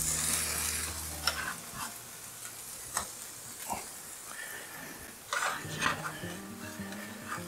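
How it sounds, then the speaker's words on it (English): Peppers, fully thawed, frying in a small frying pan, giving a steady hiss with scattered clinks and scraping stirs throughout. "We're gonna put our peppers in this small frying pan."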